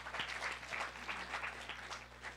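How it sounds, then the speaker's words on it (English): A church congregation applauds during a Sunday service, with brisk steady clapping at moderate distance for a couple of seconds. "give God a round of applause."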